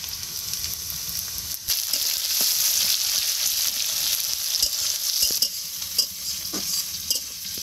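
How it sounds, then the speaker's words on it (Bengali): Onion and garlic frying with garam masala and cumin, a steady loud sizzle with stirring scrapes and occasional sharp crackles, close up and without talk. "প্রথমে আমি পেঁয়াজ রসুনটা ভেজে নিচ্ছি। এখন দিয়ে নিচ্ছি গরম মশলা আর জিরাটা।"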